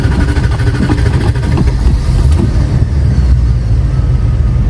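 A 1987 Chrysler Fifth Avenue engine runs roughly right after cranking, a loud, close, uneven low idle with a lumpy, stumbling rhythm, as if about to stall.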